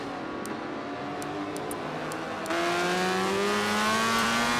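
Onboard a race car during the final laps of a circuit race, the engine drones steadily and loud, its pitch sliding as the throttle is released and then reapplied, with rising harmonic whine.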